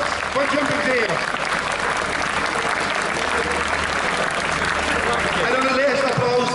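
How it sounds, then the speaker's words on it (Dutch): Sustained applause from an audience at an evening show-jumping event in Sevenum, clapping for the event's volunteers, steady and dense throughout, with a voice speaking over it and some harmonic tones underneath. "Dus beste mensen, ook heel graag een groot applaus voor alle vrijwilligers van Jumping Zeer."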